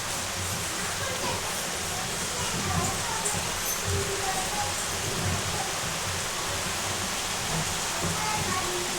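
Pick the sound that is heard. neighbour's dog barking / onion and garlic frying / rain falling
rain falling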